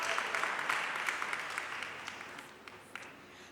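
Applause for a graduate at a thanksgiving Mass for an outgoing class, starting fairly full and thinning to a few scattered claps as it fades.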